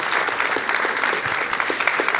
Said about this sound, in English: Another round of applause for Karen and David for their work.